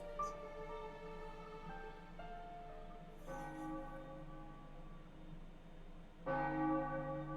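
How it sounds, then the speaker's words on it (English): Bell chimes from the video game Lawmage Academy ring in sustained, overlapping tones, with a new strike entering about every three seconds and each ringing out smoothly over a faint background. "At the sound of 3 bells, you will wake up"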